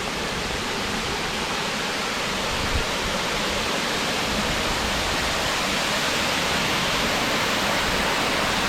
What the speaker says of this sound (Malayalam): ഇത് വലിയ വെള്ളച്ചാട്ടമാണല്ലോ ഇത്.